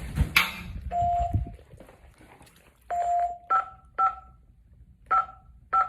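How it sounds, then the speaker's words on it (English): Electronic beeps from a home security alarm keypad being disarmed, a scattered series of short, clear tones, some held slightly longer, arriving in small clusters with pauses between them, close by and alone. "Turn this new alarm off."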